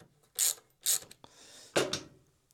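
A tool working loose a fitting during wiring and indicator installation on a motorcycle gives two sharp ratcheting bursts, a softer scrape, then another loud ratchet click run, close up with no talk.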